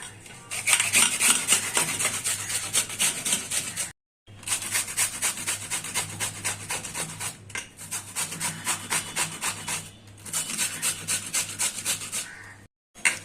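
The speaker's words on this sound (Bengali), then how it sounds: "এবার এটাকে আমি ভালো করে গ্রেট করে নেব।" Bitter gourd (karela) rubbed on a grater: close, loud rasping strokes in quick rhythmic runs, broken by short pauses between bursts, with no talking.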